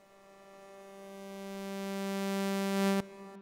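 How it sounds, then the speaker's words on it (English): A single long, soft, lush synth tone from the Vital synthesizer swells gradually over about three seconds, rich in sustained harmonics, then cuts off abruptly with a brief fading tail. "or a long, lush, soft sound like this."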